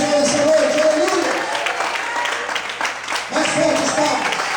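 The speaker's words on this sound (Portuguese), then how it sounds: "Quantos podem aplaudir e glorificar o Senhor essa noite?" Congregation applauding during an evening church service, a steady wash of clapping hands that swells, dips briefly and returns, with voices mixed in.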